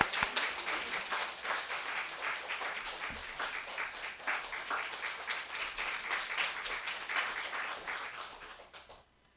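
A church congregation at a Sunday service applauds warmly to welcome a visiting pastor, a full, continuous burst of many hands clapping that holds steady before stopping abruptly near the end.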